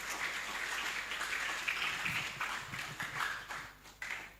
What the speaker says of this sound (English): a clap, please